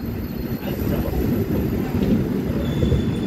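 A train rolls into Erode Junction with a steady, loud low rumble of wheels and carriages that holds without a break, with a faint high squeal near the end.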